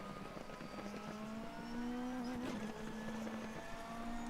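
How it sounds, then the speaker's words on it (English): Simulated DTM race car engine from a driving game, a steady high drone rising slightly in pitch with a brief crackle of exhaust pops midway, loud and continuous with no talk. "All the pops from the fuel gathering and the exhaust system is just brilliant."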